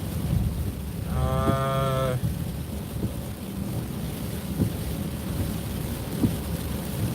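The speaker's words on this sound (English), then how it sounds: "because of the rain" Steady rain pours down under a low rumble of thunder, with a brief mooing-like harmonic tone early on against the constant wash.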